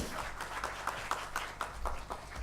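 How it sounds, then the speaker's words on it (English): A small round of applause from a panel workshop audience, scattered individual claps in a loose rhythm, fairly faint and brief. "Can I have a round of applause"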